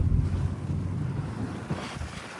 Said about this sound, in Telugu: ఎంత చల్లగా గాలి వస్తుందంటే.